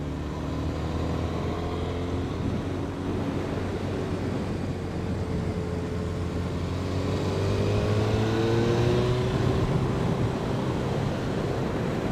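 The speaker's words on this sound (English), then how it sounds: "The nice thing about the exhaust on this bike is it can be so quiet." Engine and exhaust of a motorcycle while riding along a road, a continuous low rumble with wind rush that swells slightly in the second half, fairly quiet and with no talking.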